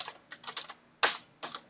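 Bursts of typing on a computer keyboard, with clustered key clicks and a sharper single keystroke near the middle, close and fairly quiet with no talking.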